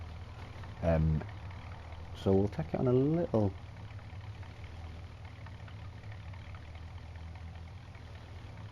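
A 1978 pickup truck with a large engine idles steadily after start-up, a low even hum running quietly beneath a few brief bursts of someone talking.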